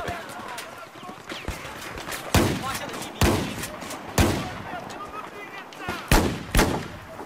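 Battlefield 4 gameplay gunfire: sharp single shots and short bursts crack out at irregular intervals, several loud reports standing out over a constant busy battlefield din, with a voice talking intermittently.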